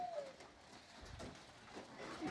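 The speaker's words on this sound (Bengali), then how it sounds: "কবুতরগুলো এখনও ভিতরে আছে" Pigeons coo inside a backyard coop during rain, low soft murmurs rising now and then over a constant wash of rainfall, with a brief higher bird call near the start.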